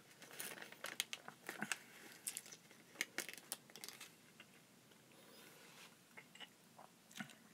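Someone chewing and eating an edible bug, crisp irregular crunches and crinkling bites, close and quiet, with pauses between clusters of chewing.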